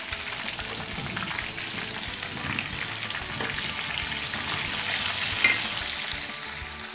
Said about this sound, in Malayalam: ഇങ്ങനെ എല്ലാ പീസും നമുക്ക് വറുത്തെടുക്കാം